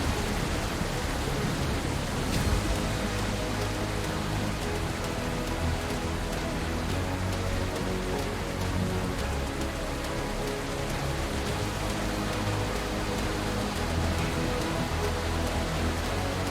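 Steady, dense video game rain sound effect hisses continuously throughout, even and unbroken, like heavy rain pattering on a surface close by.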